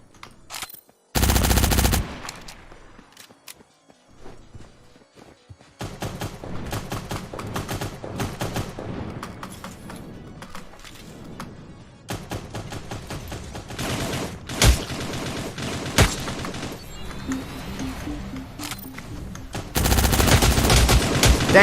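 Video game gunfire comes as loud, rapid automatic bursts that start and stop, with a long stretch of sustained shooting in the middle and more fire breaking out near the end, all without speech.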